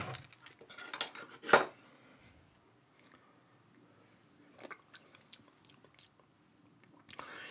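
A metal spoon clinks against a bowl while tasting squash soup made from cushaw squash, with a sharp clatter early on, then faint scrapes and soft mouth sounds in a quiet room.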